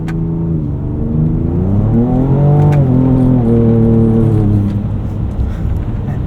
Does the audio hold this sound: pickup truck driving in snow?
yes